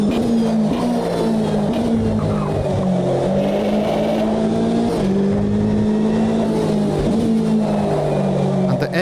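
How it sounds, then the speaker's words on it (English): A GTE race car engine in a racing sim game drones loudly and steadily, its pitch rising through the gears and dropping at each shift, while a voice talks over it. "the engine is quite nice to listen to"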